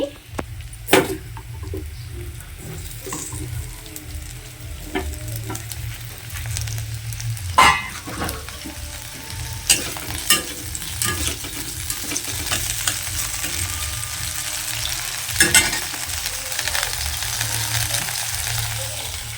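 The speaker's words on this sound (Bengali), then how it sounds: "এখন আলুটা ভেজে নেবো এই কড়াইটার মধ্যেই" Potatoes fry in a wok with a steady, crackling sizzle, broken by sharp scraping and clanking strokes of a spatula at irregular intervals.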